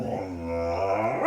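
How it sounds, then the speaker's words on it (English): A pet dog growls low and rumbling, close to the microphone, for a second or so, rising into a brief bark-like yelp at the end. "that's my dog."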